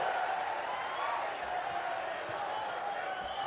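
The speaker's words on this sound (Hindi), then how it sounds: "एक बार जोरदार तालियों से उनका स्वागत करेंगे" A large crowd at a rally welcoming Indian Prime Minister Narendra Modi, with sustained applause and cheering heard at a distance, a broad even roar of clapping that holds steady without a break.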